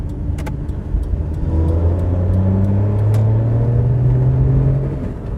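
A small Fiat Cinquecento-era city car engine runs with a steady low hum, then gradually revs higher, heard close and continuous with some faint clicks over it and no talking.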